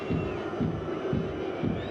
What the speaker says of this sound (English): Every time the Qataris come forward, there is a cacophony of boos and jeers.